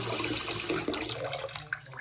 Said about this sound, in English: this faucet is back and running. Hot, cold,